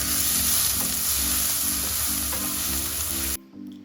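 Crushed garlic, green chillies and curry leaves sautéing in coconut oil for a Malabar-style tomato dish, a loud close sizzle with rhythmic stirring scrapes that stops abruptly near the end.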